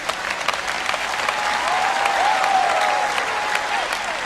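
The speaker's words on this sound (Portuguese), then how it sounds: "Agora você aplaudiu?" A studio audience applauds in a dense, steady burst of clapping that holds loud for several seconds, with a few faint cheers or whoops rising over the crowd near the middle.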